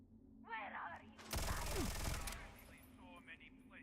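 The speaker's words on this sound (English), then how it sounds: "Gunshots go off." A loud burst of rapid gunfire from a sci-fi shooter in Starfield, lasting about a second amid game sounds and electronic tones, standing out clearly over the quieter background.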